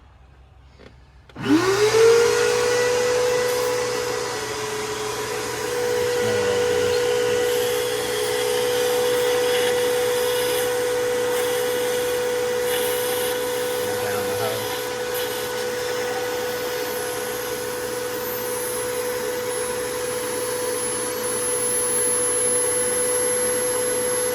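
Shop vacuum starting up with a rising whine, then running steadily and loudly for over twenty seconds while its hose end draws a broken spark plug fragment out of an engine cylinder above the piston, with no talking.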